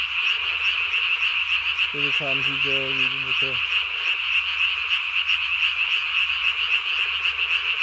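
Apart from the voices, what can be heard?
tree frogs croaking at night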